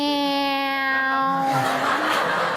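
A person imitates a pigeon with a drawn-out, wavering sad-cat meow, a single voiced cry with rich harmonics that slides and frays into a breathy, noisy ending, loud and close.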